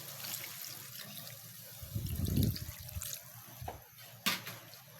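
Water is poured into a pot of adobo, a brief splashing gush in the middle, with faint drips and clinks around it in a quiet kitchen.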